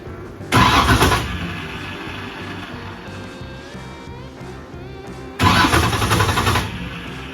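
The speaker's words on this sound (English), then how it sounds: "we're gonna rotate the motor" A car engine cranks with loud starter bursts at the start and again near the end, separated by a quieter whirring stretch.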